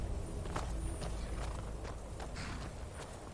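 Horse hooves clip-clop in the video game Skyrim, a quiet, steady run of soft hoof thuds under a low background rumble, with no speech.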